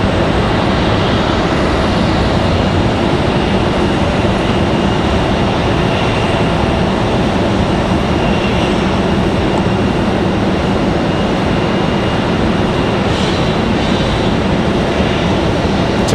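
American Airlines jet in Allegheny retro livery at Raleigh-Durham International, a loud steady roar of jet engines rumbling continuously with no breaks, constant and near throughout.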